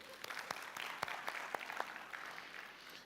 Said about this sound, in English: Hey, clap for yourself.